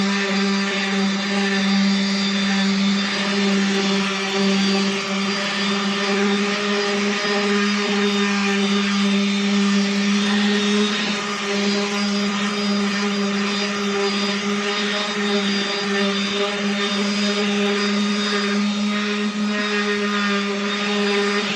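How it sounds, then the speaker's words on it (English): A power sander works a carved wooden paddle, holding a loud, steady whirring drone with a constant hum and abrasive hiss close by for the whole stretch, with no voices. "once you start to get down to the paddle like this, I would grab my sander."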